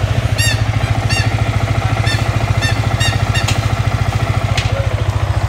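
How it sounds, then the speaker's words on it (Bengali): A Yamaha R15 V3 motorcycle with a freshly serviced, replaced chain and sprocket idles close by, its engine thumping in a steady rapid pulse, with a few faint sharp clicks above. "এই হচ্ছে বাইক সাউন্ডটা দেখি আমরা একটু।"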